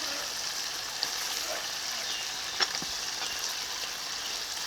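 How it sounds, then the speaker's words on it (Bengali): Duck meat and fried potatoes in a curry with whole garlic, frying in hot oil in a pan: a steady, dense hiss of sizzling, close and even, with a couple of faint utensil taps. "এখন ভেজে নেওয়া আলুগুলো দিয়ে দিচ্ছি"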